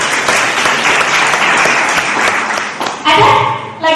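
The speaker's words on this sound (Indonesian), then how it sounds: "Tepuk tangan buat temannya Kak" A classroom audience applauds a web developer in a continuous burst of clapping, loud and close, that stops near the end as a voice starts speaking.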